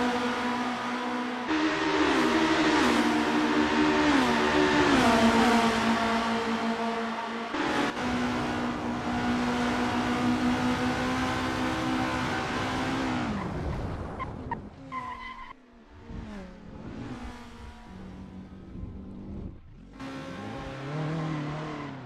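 Formula race cars on track in Assetto Corsa, with loud engines revving and changing pitch through gear shifts, tires squealing and skidding, and several cars passing close by in a first-lap battle.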